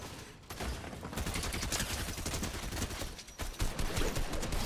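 Gunfire in the video game Fortnite, sustained rapid automatic fire crackling almost without pause for several seconds, dense and steady at moderate loudness with no talk over it.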